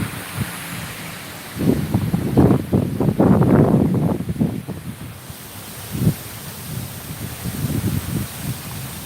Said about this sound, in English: I can probably hear the wind